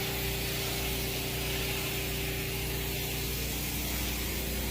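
A pressure washer sprays steadily on outdoor surfaces such as a driveway, sidewalk or concrete, giving a loud, continuous hissing rush over a low motor drone from start to finish.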